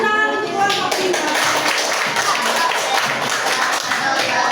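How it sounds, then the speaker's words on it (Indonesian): Students in a classroom applaud group 5, a dense, fairly loud patter of many hands clapping continuously, with some voices mixed in. "Tepuk tangan untuk kelompok 5."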